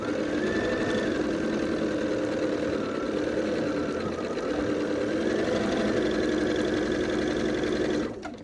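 A sewing machine runs steadily, stitching quilt pieces together for a queen-size pinwheel quilt, a continuous close mechanical whir lasting almost the whole stretch before stopping abruptly near the end.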